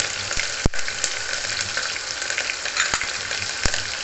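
Chillies, curry leaves and chopped garlic sizzle and spatter steadily in hot oil for a Khandeshi dal dish, with a few sharp pops and clicks of a utensil stirring the pan close by.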